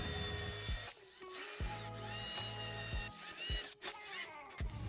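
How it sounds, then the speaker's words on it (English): A power drill bores holes in metal for a Mile Marker 24V electric winch install on a Humvee, whining in several short bursts that spin up and wind down with brief pauses between. "I'm gonna start drilling those holes"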